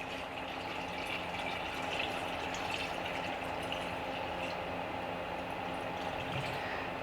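Steady running water pours into a container being filled with one gallon for a small Kratky hydroponic setup for tomatoes, a continuous close hiss and splash with no breaks and no talking.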